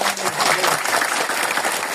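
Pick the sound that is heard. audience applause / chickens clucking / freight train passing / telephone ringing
audience applause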